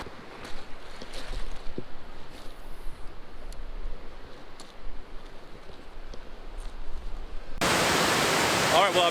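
Waterfall on a clear creek, a steady broadband rush of falling water heard close and fairly loud, swelling into a stronger, denser roar for the last second or so.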